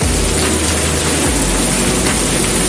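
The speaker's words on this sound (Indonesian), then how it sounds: "angin dan hujan yang turun begitu lebat" Heavy rain and wind under a dark sky on a roadside drive, a dense continuous roar of broadband noise with a low rumble that drops out briefly, loud and unbroken throughout.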